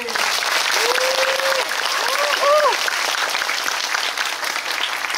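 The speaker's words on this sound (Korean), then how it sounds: "네, 박수 한번." Audience applause fills a film talk event with director Park Chan-wook and actor Park Hae-il: dense, steady clapping from a crowd, with a few high whoops rising over it midway.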